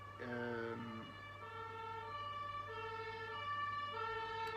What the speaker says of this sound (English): sorry, waiting for the ambulance here.